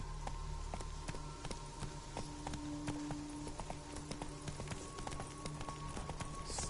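Roach, Geralt's horse in The Witcher 3, trots with a steady clip-clop of hooves, close and fairly even in rhythm over a low ambient hum, with no talk.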